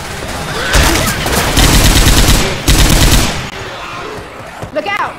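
Loud bursts of rapid heavy gunfire from a big gun in Left 4 Dead 2, three long sustained volleys with short breaks between them, then quieter scattered shots and clatter at the end; a voice is faintly present under the shooting.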